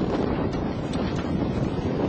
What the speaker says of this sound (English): it doesn't sound real warm there. It's pretty windy when I was there on that day.